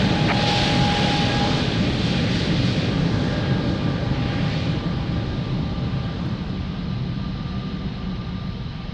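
A jet airliner's engines roar steadily at close range as it takes off from runway 02 at Lisbon Airport, a broad continuous rumble holding for the whole stretch and easing only slightly toward the end.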